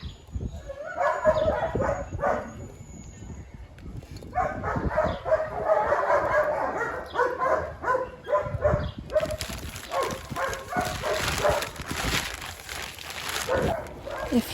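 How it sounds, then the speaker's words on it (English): Several dogs bark loudly and repeatedly nearby in rapid, overlapping bursts during an indoor tea-time plant repotting session, with a brief whine mixed in and the barking continuing throughout. "do those dogs always bark like that? Yes."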